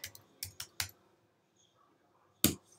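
Keys on a computer keyboard tapped in a short burst of four quick clicks, then a pause and one louder keystroke, close and clear with no talking.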